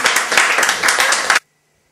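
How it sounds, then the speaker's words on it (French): On a film set, cast and crew applaud the extras, a loud close burst of many hands clapping for over a second that cuts off abruptly into near silence. "Si, on applaudit les figurants."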